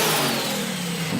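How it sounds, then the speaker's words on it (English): Modified off-road car engine at the Liwa desert off-roading festival in Abu Dhabi revs hard and loud, a sustained close roar with a rising whine throughout. "demonstrated the engine to give me a sense of its power"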